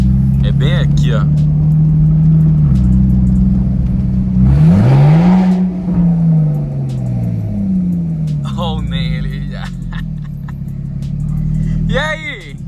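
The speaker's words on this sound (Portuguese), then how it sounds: "deu pra escutar o carro chegando?" A car drives up and arrives, its engine a steady low hum that shifts pitch as it nears, with a brief burst of noise midway, heard under people chatting in Portuguese.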